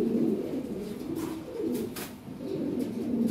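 Fancy pigeons cooing close by in a loft, with soft rolling coos repeating in a steady rhythm and no voices.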